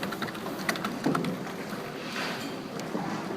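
Recorded ambience of a quiet library, with a soft, steady wash of room noise and a few faint scattered rustles and knocks.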